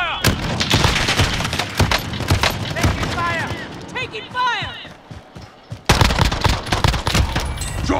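Rapid gunfire crackles through a Call of Duty Warzone firefight, with bursts of shots and booms, a brief lull, then heavy shooting again as players shout over the action.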